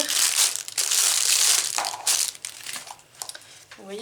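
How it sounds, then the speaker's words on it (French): A small plastic box is handled and opened at close range, giving crinkly, crackling plastic sounds with a few sharper clicks as the lid comes free. "je vais l'ouvrir."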